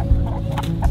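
Indio Gigante chickens in a coop cluck softly and continuously nearby, a low steady murmur of several birds with a couple of small thumps.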